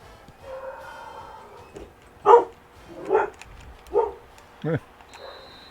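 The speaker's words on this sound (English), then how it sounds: "Can hear my dogs, both of them, something barking at somebody" Two dogs bark in short separate bursts, about four or five spaced barks heard at moderate distance indoors, with no one speaking.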